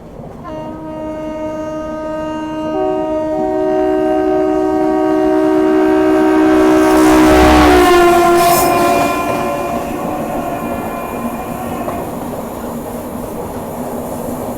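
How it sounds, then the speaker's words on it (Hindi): The Dehradun Jan Shatabdi Express passes nearby on the New Delhi–Dehradun line, sounding a long sustained horn as the rumble of its wheels builds to a loud peak and then eases away. "देहरादून जन शताब्दी एक्सप्रेस, नई दिल्ली देहरादून"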